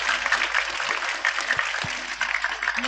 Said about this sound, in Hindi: एक बार पुनः तालियों की गड़गड़ाहट से उनका स्वागत कर दें